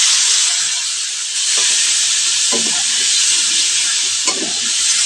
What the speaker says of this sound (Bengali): চলো এর মধ্যে মশলাটাকে মিশিয়ে দিচ্ছি